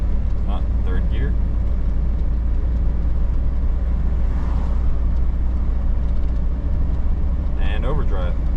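An old Chevrolet Silverado truck, left sitting for four years, drives in third gear with a steady low engine drone and road rumble, while someone speaks briefly in a few short bursts.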